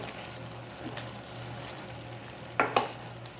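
Ampalaya and chicken breast frying in an uncovered pan, a low steady sizzle with two sharp scrapes of stirring near the end.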